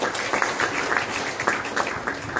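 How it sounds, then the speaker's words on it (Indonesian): Audience applause rings out at an Indonesian Youth Pledge (Sumpah Pemuda) political speech event: steady, dense clapping from a crowd that holds at an even level throughout. "Tepuk tangan untuk seluruh spirit muda kita"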